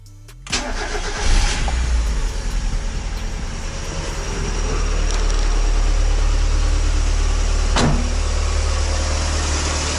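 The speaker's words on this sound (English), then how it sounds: "let's start the engine and try out how she sounds right now" A Mazda MX-5 NA Miata engine, just treated with an oil flush for lifter tick, cranks and catches, then settles into a loud, close idle that swells slightly and runs steadily, with no talking.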